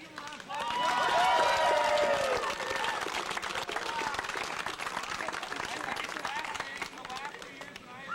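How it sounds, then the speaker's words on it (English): Outdoor crowd applause for a high school marching band at a mountain park ribbon cutting, steady clapping from a gathered audience with a few whoops and voices mixed in, sustained and moderately loud throughout. "Can we give them a round of applause?"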